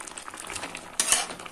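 Dried bamboo-leaf fish goes into a curry pan with potato and eggplant and is stirred, giving a soft bubbling sizzle that is followed by a louder burst of scraping utensil against the pan.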